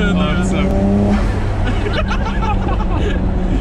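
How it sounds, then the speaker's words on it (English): A Nissan Skyline R34 GTR engine revs loudly and close by as its turbos spool, a sustained roar under nearby chatter. "All you have to do is spool the turbos"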